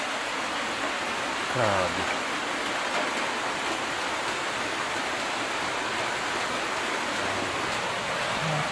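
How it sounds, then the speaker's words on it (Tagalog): Heavy rain pours down in a dense, constant hiss at night outdoors, a broad steady roar that fills the whole stretch, with a brief exclamation from a voice early on. "Lumalakas yung ulan guys no."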